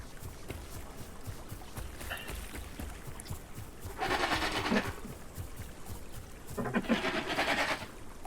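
A goat-like creature in the dinosaur game Path of Titans gives two drawn-out bleating calls, each about a second long, over a faint rustling background with no talk.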